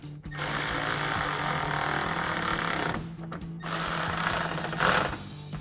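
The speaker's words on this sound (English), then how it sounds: "And then take our 10mm socket and tighten these down." Power tool running a 10mm socket to tighten fender liner bolts on a Toyota Tacoma, a loud steady buzzing whir in two bursts with a short pause between, close up.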